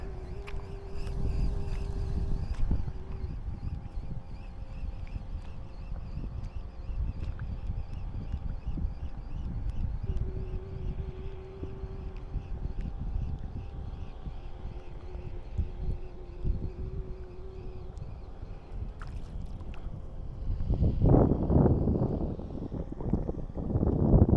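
A struggling boat engine drones unevenly off the coast of Jamaica with a rough, labored hum, joined by wind buffeting the microphone and a louder gust of noise near the end.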